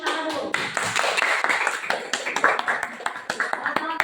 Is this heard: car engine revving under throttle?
no